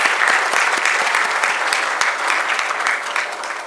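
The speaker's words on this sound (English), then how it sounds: "I would request everybody to give a big round of claps to welcome sir to Ganpat University." A university ceremony crowd at Ganpat University applauds to welcome a guest, with dense, even clapping from many hands that holds steady at a strong level and tapers slightly at the end.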